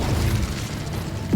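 A short burst of magical fire from the Incendio spell in Hogwarts Legacy, a loud, close whooshing flare with a rising swell at the end and no voices.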